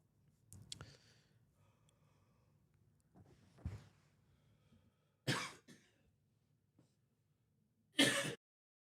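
Two live poker tournament commentators cough, the sharp bursts spaced several seconds apart and standing out against a quiet room with faint murmurs and clicks.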